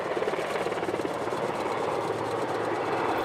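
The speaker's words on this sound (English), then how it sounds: "a dynamic aerial attack with 6 helicopters" Firefighting helicopters working the Park Fire wildfire in Butte and Tehama counties, a steady loud rotor drone with pulsing blade chop filling the whole stretch without pause.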